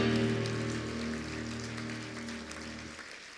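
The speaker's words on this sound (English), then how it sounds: "ask for a huge round of applause to congratulate all who were nominated for these awards" Applause from an awards-ceremony audience honoring nominees, a dense steady patter of clapping that holds strong then tapers off near the end, with no voices over it.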